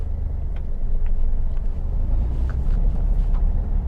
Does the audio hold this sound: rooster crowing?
no